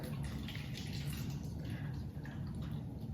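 Chicken broth pours steadily into a container with a soft, continuous splashing and gurgle, close by and fairly quiet.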